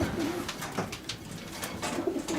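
Racing pigeons in breeder pens coo in soft, repeated throaty rolls, with several birds overlapping nearby and light rustling between calls.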